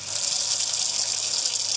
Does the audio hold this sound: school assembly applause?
no